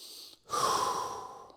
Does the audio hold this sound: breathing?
yes